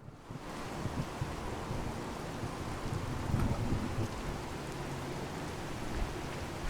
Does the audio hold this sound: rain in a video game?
yes